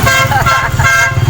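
Road traffic with car horns, a short burst of loud honking toots over the rumble of vehicles on a busy road near a hospital.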